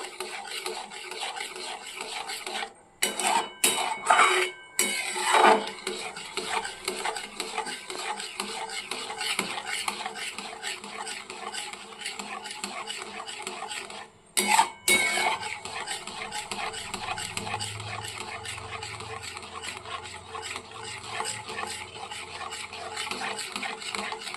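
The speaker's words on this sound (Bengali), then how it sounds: "আবারও সমানে নাড়তে থাকবো" A spoon stirs milk into palm kheer in a cooking pot, producing steady scraping and rubbing strokes against the metal with a couple of short pauses, close and continuous without any talk.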